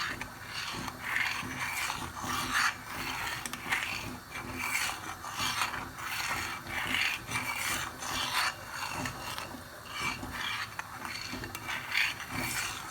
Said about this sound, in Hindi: इसको हम मिक्स करेंगे अच्छी तरह से।